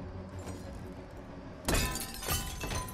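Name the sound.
glass breaking sound in video game Detroit: Become Human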